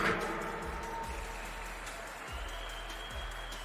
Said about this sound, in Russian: Шахбан Алхасов, Армен Тарасян, эти аплодисменты звучат, ребята, в ваш адрес